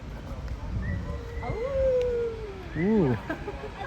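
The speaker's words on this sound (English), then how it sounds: "Arctic wolf." An Arctic wolf howls in a zoo enclosure, a long sliding tonal wail followed by a second rising-and-falling howl with harmonics, moderately near against crowd murmur and background chatter.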